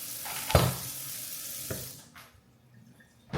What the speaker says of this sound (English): I'm gonna wash the cabbage really well.